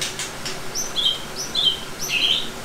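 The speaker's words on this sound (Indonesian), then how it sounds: "Ada burung, bisa lihat tuh, burung di atas tuh." Birds chirp outdoors overhead, a series of short, high tweets and chirps repeating irregularly, fairly close and clear against a quiet background with no speech.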